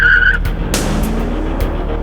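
Mercedes-Benz E55 AMG street-legal race car heard up close with a short tire squeal at the start, then engine rumble and a few sharp bursts as it moves, loud and brief.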